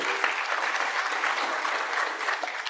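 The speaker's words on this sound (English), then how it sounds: "You're allowed to clap for our panelists, by the way" Audience at an AFWASA congress session applauds its panelists, a steady even patter of many hands clapping at moderate volume throughout, with no voices over it.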